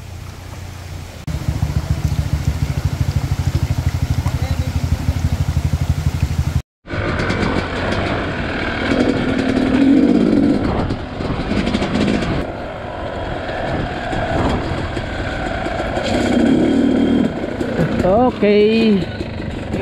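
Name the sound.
motorcycle engine running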